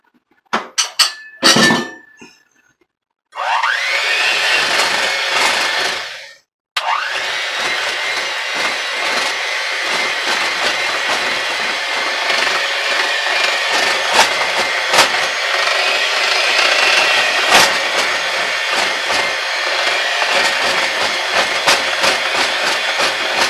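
Egg beaten into Jamaican banana bread batter with an electric mixer, a loud steady whirring drone running for most of the stretch after brief starts and stops, close and continuous with no talking.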